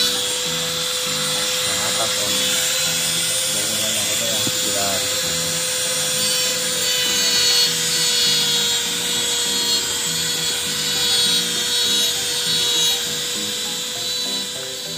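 A grinder whines steadily while smoothing the edges of a cut hole for a cup holder in a Suzuki Ertiga, a continuous high-pitched motor tone with rhythmic pulsing as it works slowly, close and loud.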